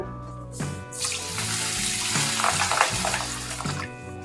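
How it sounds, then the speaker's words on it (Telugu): Running water flows over soaked lentils and barley as they are washed, a close, steady tap-like rush with clinks and shifting splashes and no speech. "ఈ పప్పులనంతా బాగా నీట్గా కడుక్కొని రెండు మూడు సార్లు నీళ్లు పోసి నానబెట్టుకుంటాను"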